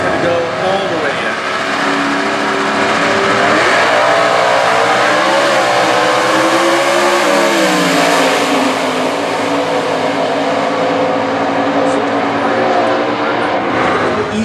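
A Stock Eliminator drag race car at the 2015 US Nationals: a loud, continuous engine roar with rising and falling pitch fills the whole stretch while an announcer talks over it.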